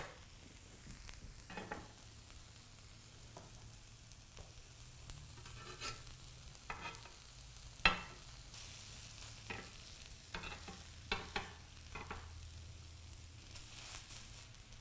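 Zucchini fritters frying in a pan give a low steady sizzle with scattered soft pops and clicks, quiet and continuous with no talking.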